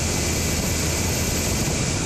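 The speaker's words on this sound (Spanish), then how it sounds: "Un helicóptero Ángel de la Fuerza Aérea realizó la complicada maniobra de rescate." An air force Angel helicopter, a Black Hawk, flying a rescue mission at a hydroelectric dam site: a loud, steady rotor and engine roar fills the whole stretch without pause, with no voices.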